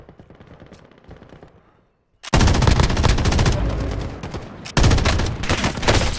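Automatic gunfire in Call of Duty Warzone (Modern Warfare), loud sustained bursts of machine-gun fire starting after a quieter stretch, with a second burst cutting in near the end.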